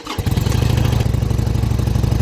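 A Yamaha Bolt motorcycle engine catches and settles into a loud, rapid, throbbing idle, close by and steady.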